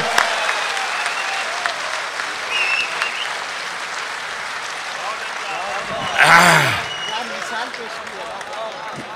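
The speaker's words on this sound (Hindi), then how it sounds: "जोरदार तालियों के साथ बुलाइएगा" Loud, sustained audience applause at a mushaira poetry gathering in Dubai, a dense wash of clapping from a large crowd that swells briefly near the end.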